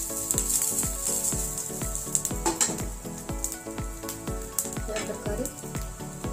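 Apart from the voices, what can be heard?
roasting garlic, cumin and chillies in a pan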